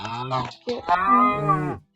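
A cow in a cowshed lets out a long, loud, close moo, preceded by a couple of shorter lowing grunts, with no one talking.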